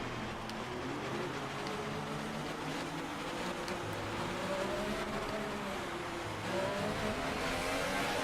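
F1 race cars accelerate as the field restarts behind the safety car at the Mexican Grand Prix in the F1 2018 video game, a sustained rising engine whine with layered revving tones and no talking.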